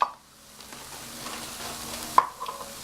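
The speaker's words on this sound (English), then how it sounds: "You're gonna stir that all together." Vegan chikn pot pie veggie mix being stirred in a pan, a soft scraping stir over a faint sizzle, with a couple of sharper utensil taps, close and quiet with no talk.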